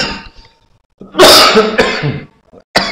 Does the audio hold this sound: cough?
yes